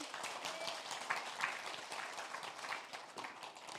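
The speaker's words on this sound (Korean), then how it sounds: "주님께 박수 드리세요." A church congregation claps and applauds steadily for a few seconds, a dense patter of hands heard at a moderate distance.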